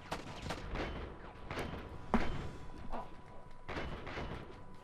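Gunfire in the Enter The Matrix video game, several heavy shots in uneven bursts with booming thuds, loud and close over continuous game noise.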